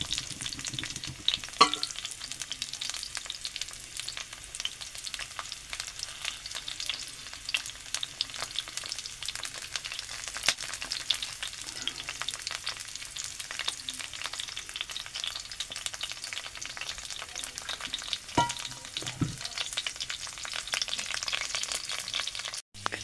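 Sliced snake gourd fries in oil in a pan, a quiet, steady crackling sizzle that runs throughout, with a few soft clinks and scrapes.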